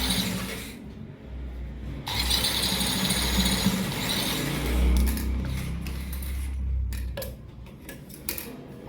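A sewing machine stitches a jeans pocket with thick thread in bursts of rapid mechanical ticking, separated by brief pauses and a few clicks near the end, recorded close up.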